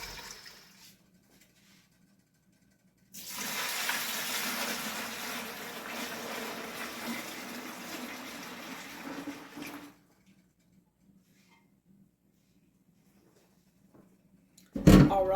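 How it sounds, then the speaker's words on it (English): Hot water gushes from a tap into a large pot in one loud, steady stream lasting several seconds, with quiet before it and after it, then a short clunk at the end. "I'm just going to fill that up with hot water."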